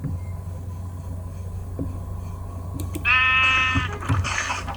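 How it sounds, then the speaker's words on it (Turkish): A single loud sheep bleat from a black sheep in Minecraft cuts in over a low steady rumble, followed by a shorter second bleat, with faint clicks and thumps around it. "Kara koyun gel bakayım."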